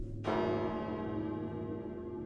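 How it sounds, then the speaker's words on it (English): A single church bell strikes once, the deep toll ringing out and then decaying slowly with a long, humming resonance, moderately distant and alone. "The bell invites me."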